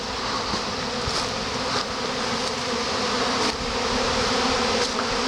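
A swarming honeybee colony buzzes loud and steady outdoors, a dense continuous hum of many bees close by with no voices.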